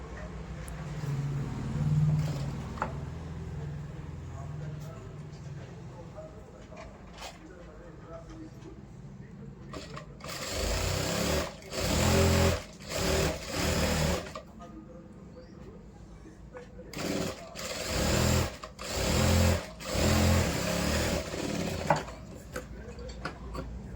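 Sewing machine stitching a cross-cut blouse, running in several short bursts of rapid whirring with pauses between, faint and close, with someone talking at the start.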